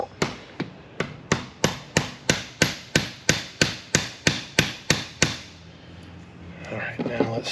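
About fifteen sharp hammer blows land in a steady, even rhythm up close, then stop, leaving faint background noise and a brief voice at the end.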